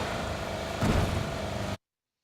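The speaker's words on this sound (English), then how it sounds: "we hear another car that's pulling up" A video game car engine running and pulling up, a steady mid-range motor drone with a brief swell of revving near the middle before cutting off abruptly into silence.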